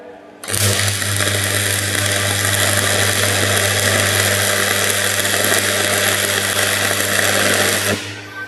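Arc welding in a fitter's workshop, a loud continuous buzzing and crackling hum that starts abruptly, holds steady for about seven seconds and then cuts off, with no talking.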